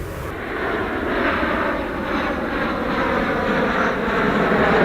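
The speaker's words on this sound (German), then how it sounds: "Flugzeug" An airplane flies overhead through morning fog, a steady broad jet-engine roar that holds loud and even for the whole stretch, no voices.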